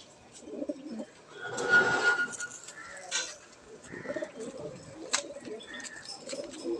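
A Laldoma pigeon, a male, coos in soft low bursts through the clip, with a few brief chirps and other bird sounds in the background.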